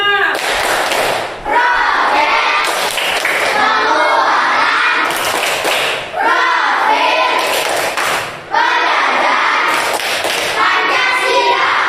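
Schoolchildren in a classroom perform the P5 clap chant together, bursts of rhythmic group clapping mixed with their chanting voices, repeating in cycles of a few seconds with brief pauses between.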